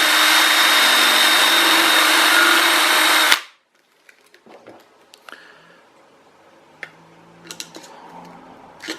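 A power drill whirs loudly and steadily for a few seconds while drilling through plastic, then stops abruptly, followed by quiet clicks and light handling noises.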